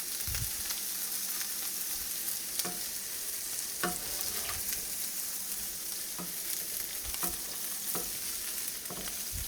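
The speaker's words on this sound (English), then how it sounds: "our bacon, once we get to this point, I like to push down with a spatula. So the whole thing gets cooked." Bacon sizzles steadily in a pan while a spatula presses it down, a constant close hiss of frying fat broken by occasional scraping clicks and pops, with no talking.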